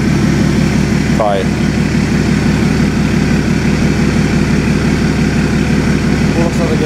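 A BMW 335i engine idles loudly and steadily with a deep rumble throughout, while a voice speaks briefly over it.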